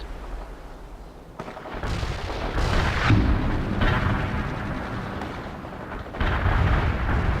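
Rocket launchers fire in the World in Conflict video game, with booming, rumbling blasts and bursts of explosive fire rolling in waves over a continuous battle din.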